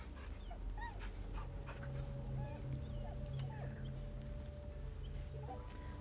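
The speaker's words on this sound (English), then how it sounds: "Gotta pet our dog. Ooh, what a good boy." A dog whimpers softly and intermittently in the Baldur's Gate 3 video game, thin high whines over a steady low ambient game drone with no talk.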